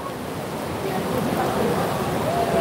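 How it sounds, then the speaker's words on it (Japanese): Heavy rain pours steadily at an outdoor stadium main stand in Niigata, a dense, even hiss that holds close and fairly loud throughout without pause. "雨やばいな、マジですごいな。"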